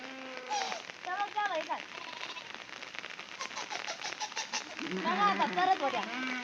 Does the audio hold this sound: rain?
yes